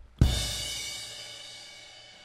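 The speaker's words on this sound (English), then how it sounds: "This one right here is called a crash cymbal." A single crash cymbal strike, bright and splashy, washing out and slowly fading over a couple of seconds with nothing else playing.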